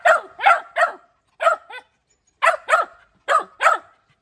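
A pet dog barks in short bursts at home, pairs and triplets of loud, close yaps separated by brief pauses, with no talking over them.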